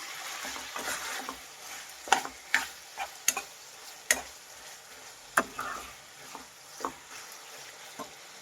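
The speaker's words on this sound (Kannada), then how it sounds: "ನೋಡಿ ಒಂದೆರಡು ನಿಮಿಷ ಫ್ರೈ ಮಾಡಿದಾಗಿದೆ ಈಗ ರುಚಿಗೆ ತಕ್ಕಷ್ಟು ಉಪ್ಪು ಹಾಕ್ತಾ ಇದ್ದೀನಿ ಉಪ್ಪು ಹಾಕಿದ್ಮೇಲೆ ಮಿಕ್ಸ್ ಮಾಡಿ" Capsicum green chilli chicken fries in a pan, a steady soft sizzle broken by repeated sharp scrapes and clinks as a spoon stirs it through. The clip is close and has no talking.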